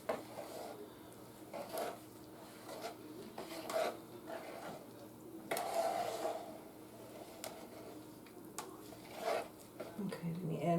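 Cornbread batter with egg stirred in a bowl, giving repeated soft scraping and rubbing strokes against the bowl at a moderate pace, fairly quiet, with a person talking over it.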